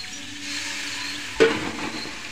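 Hot oil poured over taro leaves in a pan, a steady frying sizzle with one sharp clatter partway through as the greens are stirred, close and fairly loud with no talking.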